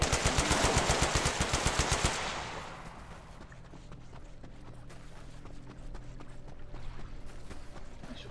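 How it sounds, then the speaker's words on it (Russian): Rapid automatic gunfire in the shooter game Stalker Online rattles in a fast even burst for about two seconds, then gives way to quieter footsteps and ambient game sounds. "Давай, стреляй его."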